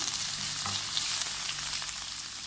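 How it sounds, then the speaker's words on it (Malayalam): Sliced onion, green chili and curry leaves sauté in hot oil for a Kerala-style beef stew, giving a steady close sizzle and crackle with light stirring scrapes. "നമുക്കിതിലേക്ക് അരിഞ്ഞു വെച്ചിട്ടുള്ള സവാളയും പച്ചമുളകും അതുപോലെ കറിവേപ്പിലയും ചേർത്ത് കൊടുക്കാം. ഇതൊന്ന് വഴറ്റിയെടുക്കണം."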